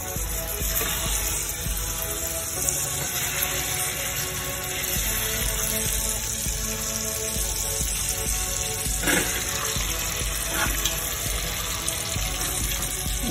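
Rabbit pieces fry in a pan with bacon bits, a steady loud sizzle that runs unbroken from start to finish with no talking.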